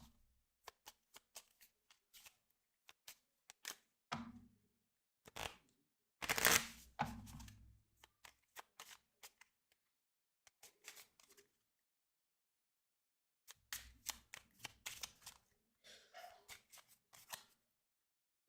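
Cards from a Sentinels of the Multiverse deck are shuffled in repeated bursts of rapid riffling and flicking, crisp and close, with short pauses between rounds and a longer gap midway.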